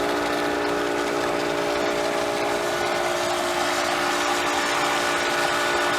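Rx Clear Radiant 24-inch pool sand filter pump running, a loud continuous motor hum and whine with a steady watery hiss, unchanging throughout with no voices.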